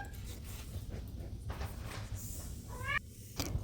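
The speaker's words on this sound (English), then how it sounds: "That sound is from my cat Nubi, who is very happy now." A cat meows once, short and rising, near the end, over a low background hum, with some faint rustling before it.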